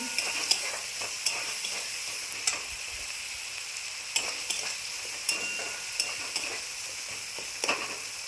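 Spice paste frying slowly in oil on low heat for a vegetarian cabbage curry, a continuous close sizzle and crackle with regular light clicks and scrapes of a spoon against the pan.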